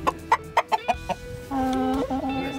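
Baby chickens clucking as they dust bathe: a run of short, sharp clucks at a steady pace, then a longer, drawn-out warbling call, close by with a faint background hum and no talking.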